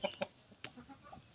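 A naked neck gamefowl hen in a small backyard coop gives a few short, faint clucks spaced unevenly over a quiet background.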